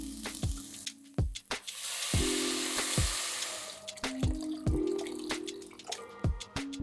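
Water pours into a pressure cooker holding a mulligatawny vegetable soup with spices and garam masala, splashing and sizzling near at hand amid repeated sharp knocks and clatters of the pot.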